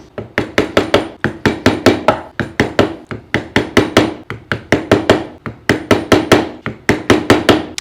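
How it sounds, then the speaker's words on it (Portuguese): Light, steady tapping on a small screwdriver set into the corner of a rustic wood carving, dozens of crisp, evenly spaced knocks in quick bursts with short pauses, close and fairly loud with no talking. "Marcou com o formão, vem com a chavinha de fenda, com todo cuidado você bate nessa quina."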